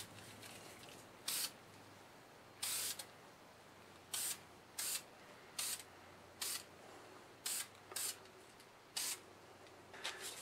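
Deft lacquer sprayed from an aerosol can onto a segmented, twisted wooden vase on a woodturning project: about ten short, sharp hissing bursts at irregular intervals, close and clear over a quiet room hum.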